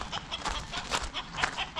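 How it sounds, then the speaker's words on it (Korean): A rooster clucks close by in a backyard flock, a string of short, repeated clucks at moderate level with faint background noise. "하지만 주변에 도와줄 다른 수탉들이 없으면 골드는 집요하게 흥부를 따라다니며 괴롭힌다."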